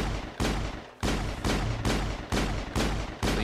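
Shepard fires a weapon in Mass Effect: roughly eight loud, sharp gunshots in a steady, evenly spaced rhythm, each with a short decaying tail. No voices are heard.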